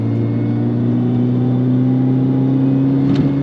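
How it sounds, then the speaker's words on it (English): A Mini Cooper S R53 pulls uphill at full throttle with two heavy occupants aboard, its engine note a steady, loud drone that holds up close and alone throughout. "Let's floor it."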